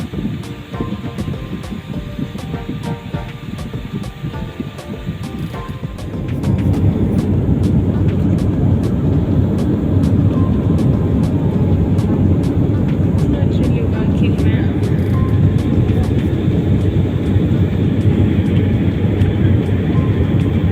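Kenya Airways airliner cabin in flight: a steady, loud broadband engine and air roar that swells after a few seconds and holds constant, with a faint cabin announcement voice underneath.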